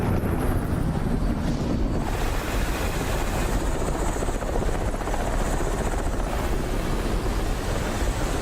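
Helicopter flying close by, a loud continuous rotor roar with heavy low thumping and wind rush filling the whole stretch without pause, no voices over it.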